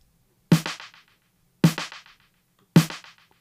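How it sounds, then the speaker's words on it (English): Three evenly spaced drum machine snare hits ring out alone, each crack trailed by quickly fading delay echoes that repeat a few times before silence. "So if you only hear the snare, it sounds like this."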